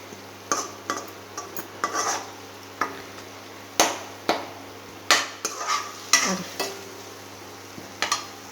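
A steady low sizzle of a ground paste frying in oil, punctuated by regular scraping and stirring knocks of a spoon against a pan.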